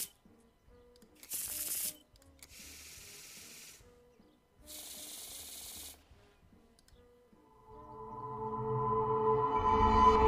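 Playing cards being shuffled in several quick riffled bursts separated by short pauses, close and crisp, followed by a rising swell of other game sound toward the end.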